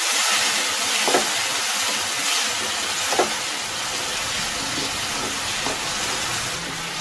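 Tomatoes and mixed vegetables fry in a pan for a paneer vegetable pulao, giving a steady, close sizzle with a few soft stirring clinks scattered through.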